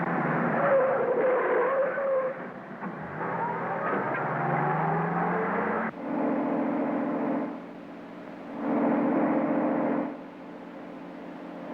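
An old car drives fast, chasing a dog. The engine revs and roars up close, with tyre squeals and shifting pitch as it speeds off, easing and surging in bursts over an old film soundtrack.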